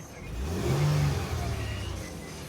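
A 2005 Mercedes ML350 SUV engine runs nearby with a low hum that swells briefly as it revs, then eases back to a steady drone.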